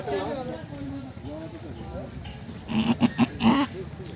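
People talk nearby at the Harike Kalan goat market in Punjab, then a goat bleats in a quick run of short, wavering calls, close and fairly loud.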